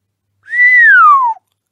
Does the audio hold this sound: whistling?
yes